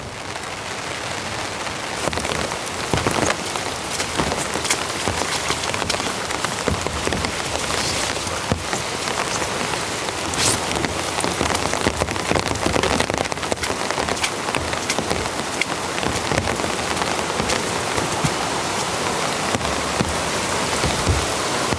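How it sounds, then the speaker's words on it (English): Heavy rain during a rainstorm at a remote cabin pours down as a steady, loud hiss, with sharp taps of drops striking nearby surfaces throughout. "The rain has eased a bit."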